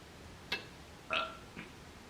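A baby burps a few times during a honey butter chicken biscuit and breakfast burger mukbang, with two or three short, soft bursts, the middle one the strongest, heard close and alone.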